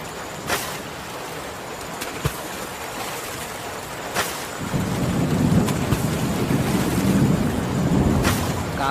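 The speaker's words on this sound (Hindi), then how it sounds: "बहुत तेज बारिश हो रही है।" Heavy cartoon rainstorm with a steady rush of rain, a deeper roar swelling in partway through, and several sharp thunder cracks breaking through the downpour.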